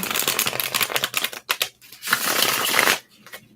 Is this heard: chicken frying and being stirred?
no